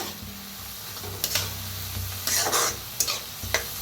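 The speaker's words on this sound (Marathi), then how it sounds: "आता डाळीला बी का नाही भाजून घेऊया कांद्याबरोबर।" Soaked moth bean dal roasts with onion in a pan, giving a steady close sizzle broken by several scraping stirs of a spoon against the pan, with no talking.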